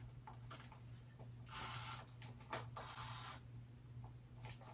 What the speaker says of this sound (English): adhesive releaser and I just go ahead and start spraying it